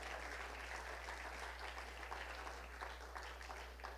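Congregation applauding in a church, a steady wash of many hands clapping together for the full stretch over a low constant hum, with no clear voices above it.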